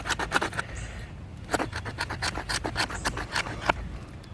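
A knife scrapes shavings from moist fatwood in a string of short, close rasping strokes with an uneven rhythm.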